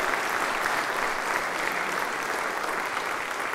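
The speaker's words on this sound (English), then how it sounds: "Give him a round of applause" A church congregation applauds, a dense and even patter of clapping that holds steady throughout with no voices.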